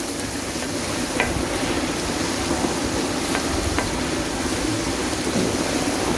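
Pasta ingredients fry in a pan with a dense, even sizzle like light rain. A few faint utensil taps break through now and then.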